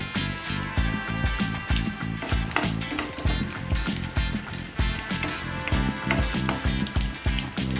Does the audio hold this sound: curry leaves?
yes